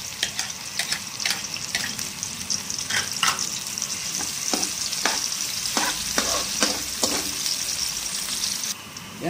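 Onion frying in a pan with a steady broadband sizzle, joined by scattered scraping and stirring clicks of a utensil, close and continuous with no voices.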